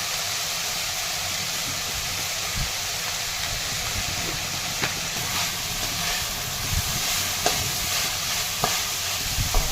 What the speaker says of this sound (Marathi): मटकी छान परतलेली आहे यामध्ये आता चटणी टाकून घेत आहे